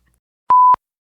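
A single censor beep: a clean, steady electronic tone lasting about a quarter second, sharp and loud, with near silence before and after.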